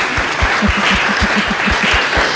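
An audience at a special education parent meeting applauds, with a rhythmic run of claps over a dense steady wash of hands, close and continuous for the whole stretch.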